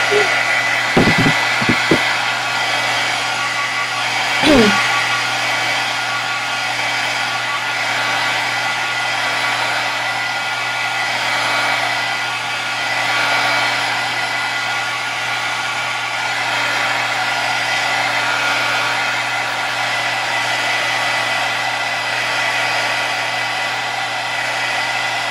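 Hair dryer blowing on freshly painted canvas, a steady close whir held for the full stretch, with a few faint clicks and handling noises near the start.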